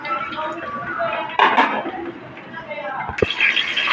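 Chopped onion, green chili and tomato tumble into a metal pan with clattering and clinking of utensils against cookware, a sharper knock near the end, over a continuous kitchen background with voices nearby.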